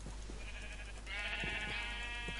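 A Minecraft sheep lets out a bleat, then a second, louder bleat, over a steady low background hum; no speech.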